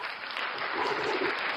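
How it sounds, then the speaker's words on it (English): A brief burst of applause from a small group on a podcast, steady dense clapping, fairly close and moderate in level. "Let's give Rich a round of applause"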